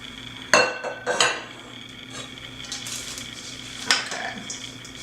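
A spoon stirs sauteed onions, peppers and garlic into crab cake mixture in a bowl, with a few sharp clinks of utensil on bowl early and again near the end, plus soft mushy scraping between.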